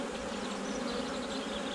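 Honey bees buzz densely around a hive during an April swarm capture, a close, continuous humming drone with no pauses and no voices.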